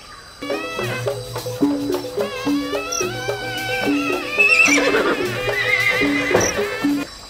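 A horse neighs repeatedly in long, wavering whinnies, loud and close, with a second whinny overlapping midway and no talking, in the game Jurassic World Evolution 2.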